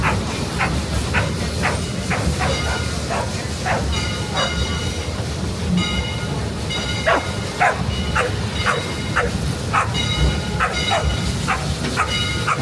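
A dog at a steam railroad station barks repeatedly in short, rapid yaps at a moderate distance, over a steady rumble of idling train noise.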